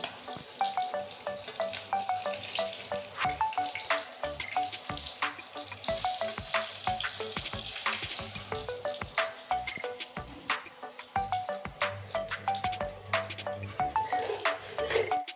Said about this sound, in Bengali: আমি এখন এই মাছ ভাজা তেলেই ভেজে নিচ্ছি